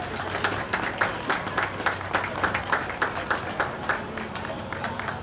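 A crowd at a St Patrick's Day parade claps, a sparse, uneven patter of hands with distinct individual claps, moderately loud and without talk.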